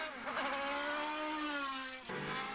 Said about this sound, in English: Paul O'Connell in his 4000cc GP2 Dallara leading on lap 8.